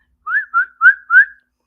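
A male cardinal gives four clear, rising whistled notes in quick, even succession, each bright and loud against near silence.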